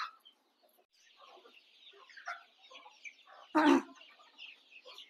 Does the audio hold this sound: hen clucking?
yes